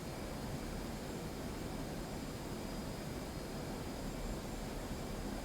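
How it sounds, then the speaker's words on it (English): An F/A-18 Hornet jet engine at full afterburner in DCS World, a steady, dense, loud roar that holds unchanged throughout with no voices. "Go up to afterburners on"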